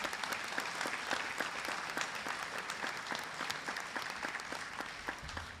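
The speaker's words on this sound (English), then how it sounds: "let's just start with a massive round of applause for each of you and those who have supported you" A large crowd claps steadily at a university commencement ceremony, a dense sustained round of applause with no voices over it, tapering slightly at the end.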